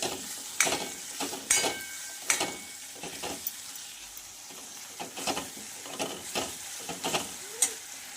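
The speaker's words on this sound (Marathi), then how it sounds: "आता या टेजवर आपल्याला यामध्ये घालायची आहे कोथिंबीर आणि मिक्स करून घ्यायचं आहे" A spoon stirs fried tomato masala and fresh coriander in a pan for a dangar bhaji, giving soft repeated scraping strokes over a faint, steady sizzle, close and fairly quiet.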